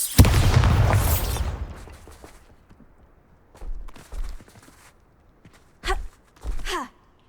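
A blasting explosion spell in the video game Hogwarts Legacy, a loud close boom that decays over about a second, followed by scattered quieter thuds and short bursts.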